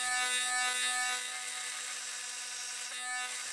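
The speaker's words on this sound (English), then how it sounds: "I will grind this threaded using my disc sander" A disc sander grinds a threaded rod, giving a steady, high-pitched whine with a hard tonal hum. It sits close and fairly loud, eases off slightly after the first second, and no one talks.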